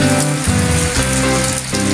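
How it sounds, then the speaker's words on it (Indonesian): Heavy rain pours down steadily on a swamp during a fishing outing, a dense, loud, continuous hiss and patter with no pauses. "hujan deras."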